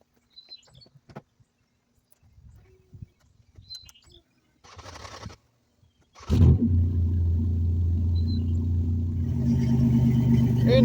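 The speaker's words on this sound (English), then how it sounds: "So let's get it started up and make sure it still runs." A project car engine cranks and catches, then settles into a loud, steady idle up close, the roar building slightly toward the end, after a quiet stretch of faint shuffling and clunks.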